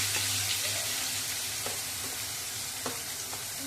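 Onion, garlic and ginger paste sautéing in a hot pan with a pinch of asafoetida, a steady close sizzle with occasional soft stirring scrapes and no talk.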